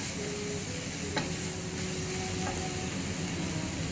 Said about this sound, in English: So 2 spoons of turmeric. I'm just going to give it a little bit of stir.